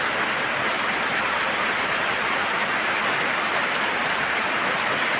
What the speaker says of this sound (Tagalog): Lakas ng ulan dito sa aming lugar.